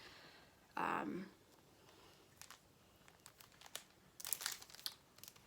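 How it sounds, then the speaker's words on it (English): Plastic and paper packaging around a Kindle Paperwhite 10th generation e-reader being unwrapped, a loud crinkling burst at first, then scattered soft crackles and tearing rustles close by, with a brief flurry near the end. "So let's unwrap it."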